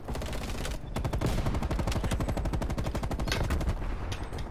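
Rapid MP5 submachine gun fire in the video game Call of Duty Cold War, loud sustained automatic bursts with a tight, fast rhythm and a short pause near the start.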